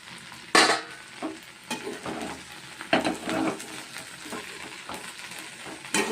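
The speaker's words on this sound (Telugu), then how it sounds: "చూడండి మగ్గుతున్నాయి ముక్కలు." Okra and prawn pieces frying together in a pan make a soft, crackling sizzle, broken by several louder scraping and stirring bursts as the pieces are turned.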